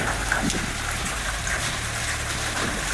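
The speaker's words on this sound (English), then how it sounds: "Hail in the tropics." Hailstorm in tropical Queensland, Australia: a loud, dense, steady roar of ice and rain pelting surfaces, with a low rumble underneath and no voices.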